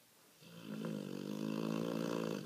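A dog snores with one long, rasping, rumbling breath that swells and holds before cutting off, close and clear with no talking.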